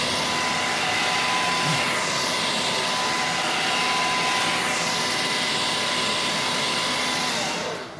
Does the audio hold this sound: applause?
no